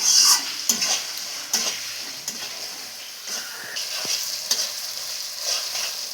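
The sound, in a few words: stir-frying spice paste with Kashmiri chili until oil separates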